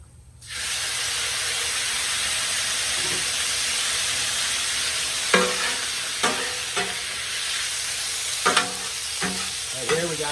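Cheesesteak ingredients sizzle and fry steadily on a hot griddle, a constant loud hiss with a few sharp scraping or stirring clatters toward the end.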